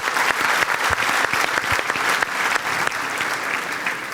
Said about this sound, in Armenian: Հանձինս Վլադի, որի համար եկեք ծափարենք